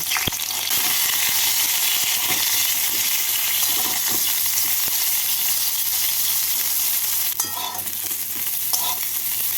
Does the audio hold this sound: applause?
no